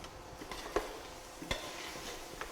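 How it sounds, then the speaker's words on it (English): Beans curry stirred in coconut oil, a soft low sizzle under a few scraping strokes of a spoon against the pan, quiet and close, with no talk. "And you give it a stir."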